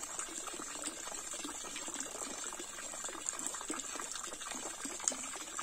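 Water gushing steadily from a hose fed by a 3-inch hydraulic ram pump, a continuous splashing rush with faint rhythmic pulses running through it, close and unbroken.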